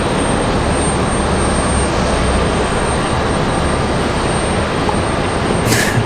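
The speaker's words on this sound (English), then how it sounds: "This is American Airlines 2781 headed to Philly. A319-100." American Airlines Airbus A319-100 jet at Raleigh-Durham airport, a loud, continuous, close engine roar with heavy low rumble throughout and a brief higher hiss near the end, no talking.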